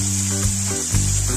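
Vegetables frying in a pan with a little salt while cooking Maggi noodles, a close steady sizzle with brief stirring interruptions and a low hum beneath.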